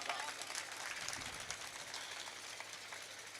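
Dense, distant applause from the crowd at an all-India Hindi poetry gathering in Phaphund, a steady wash of clapping held at a faint, even level.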